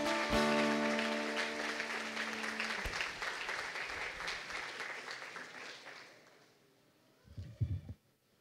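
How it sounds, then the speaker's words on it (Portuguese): Loud, sustained applause from a church congregation closing a worship service, a dense wash of clapping over sustained music tones that gradually fades, followed by a short burst of low rumbling sound. "Você pode aplaudir ao Senhor bem forte."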